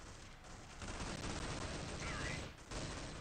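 Gunfire crackles in Counter-Strike played on the original Xbox, with dense rapid bursts of shots that briefly drop out and then resume at a moderate distance.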